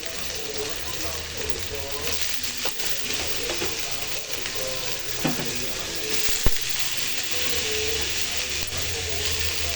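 Crab pieces dropped into a pan of frying onion masala, sizzling and hissing steadily throughout with occasional stirring clatter and faint voices underneath.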